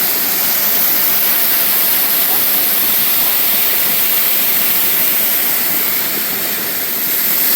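A waterfall pours nearby, a dense, steady roaring rush of water that holds loud and unbroken throughout.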